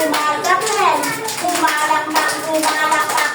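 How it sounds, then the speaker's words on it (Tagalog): Children clap their hands in rhythm during a Filipino action song, the claps sounding under sung or chanted voices that carry the melody throughout. "Pumalakpak"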